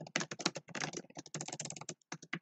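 Rapid typing on a computer keyboard while writing code, dense clusters of sharp close key clicks with brief pauses between bursts, no speech.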